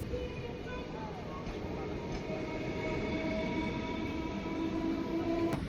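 Howrah–Malda Town Intercity Express (13465, via Azimganj) running on rails, a steady, continuous rumble of wheels and carriages with faint squeals and hums throughout, heard from on board.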